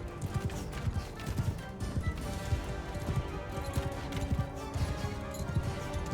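Horse hooves gallop in a steady clip-clop rhythm across a Mount & Blade II Bannerlord siege battle, close and loud over a dense bed of combat noise, with a voice murmuring faintly underneath.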